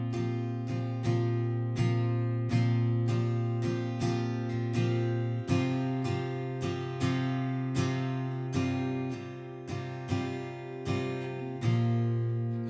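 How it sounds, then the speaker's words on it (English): An acoustic guitar strums the chorus rhythm of a song, following a drum-like pattern. Steady, bright chord strokes with regular accents run for several bars, played alone without any voice. "strumming pattern for the chorus, I'm kind of playing rhythmically what the drums are doing"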